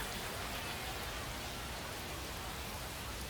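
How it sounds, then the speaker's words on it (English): Steady rain pours in MLB The Show 25 during a Boston versus Philadelphia baseball game, a dense, even hiss of falling water with no breaks, filling the scene at moderate level. "This rain is not letting up."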